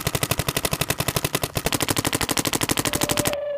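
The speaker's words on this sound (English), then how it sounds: "the lower pitch sound that the marker makes when being fired" A Planet Eclipse paintball marker, a Gtek or Etek 5, fires a rapid unbroken stream of sharp pops, loud and close, about a dozen shots per second for over three seconds before stopping.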